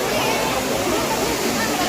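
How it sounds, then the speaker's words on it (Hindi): Broad, constant rush of a waterfall at Narsinghnath temple during the Baisakh fair, loud and close, a steady roar of falling water without breaks. "यहाँ से देखो जो वाटरफॉल है कितना मस्त लग रहा है"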